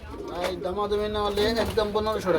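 Pigeons at a pigeon market, soft repeated throaty cooing close by, overlapping in short rolling phrases, with a voice speaking among the birds.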